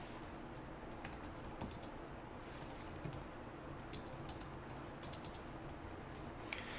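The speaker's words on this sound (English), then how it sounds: "I'm going to start typing some new code in here" Keys clatter in quick, irregular bursts as someone types code on a computer keyboard, faint and close with no talking.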